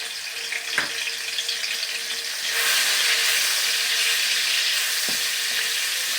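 Garlic and ginger paste frying in a hot pan, a steady bright sizzle that swells louder partway through and keeps hissing evenly, with a couple of faint clinks of a spoon.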